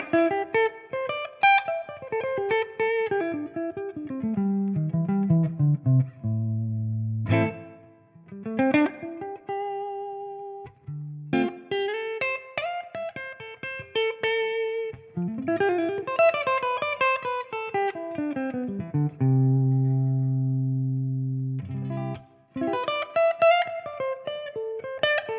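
Clean electric guitar on the neck pickup through a Marshall-style Tonex amp tone, playing descending arpeggiated phrases and sustained low chords that ring out, with short gaps between passages and no talking.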